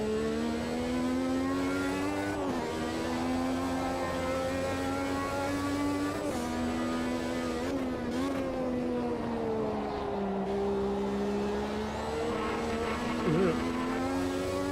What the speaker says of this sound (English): So yes, turbo sounds sound good.